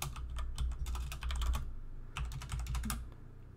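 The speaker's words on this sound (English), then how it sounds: "If I can type ping" Someone types on a computer keyboard while setting up a Chia harvester, producing quick bursts of close, crisp key clicks with a brief pause between two runs of typing.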